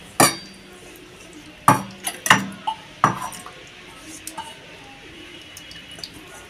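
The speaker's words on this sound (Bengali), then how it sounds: "টিফিন বাটিতে আমি মাছটা দিয়ে দেবো।" Fish set into a metal tiffin bowl, with several sharp clinks of dishware close by, the strongest early, then softer scattered taps and light handling noises with no talk.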